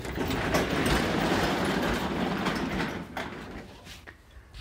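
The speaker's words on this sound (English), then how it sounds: "give me just a second so I can raise this door" A truck's cargo door rolls up in one continuous loud, rattling slide lasting several seconds, then trails off quieter toward the end, with no talk over it.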